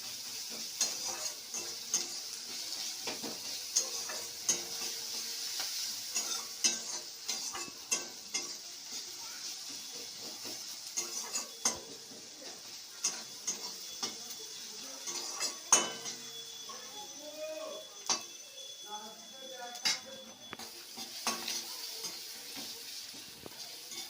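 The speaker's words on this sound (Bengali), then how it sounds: "এবার পেঁয়াজটা ভাজা ভাজা করবো ভালো করে" Onion frying in a pan with turmeric, a faint steady sizzle under frequent scraping and clinking of a spoon stirring against the metal pan, close and fairly quiet.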